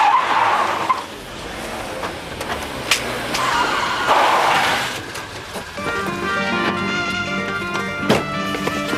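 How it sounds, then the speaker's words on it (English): Cars screech round corners in a TV comedy scene, with repeated loud tyre squeals and engine noise in bursts, ending in sustained screeching over rumbling motors. "come screeching in with the cars round the corners"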